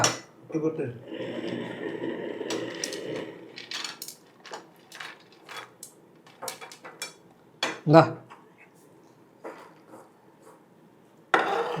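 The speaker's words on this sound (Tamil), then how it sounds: "நல்லா கிண்டுடா கரண்டில புடிச்சிட்டு" A ladle stirs cake mixture in a pan, giving scattered metallic scrapes and clanks with one louder knock midway, while people talk nearby throughout.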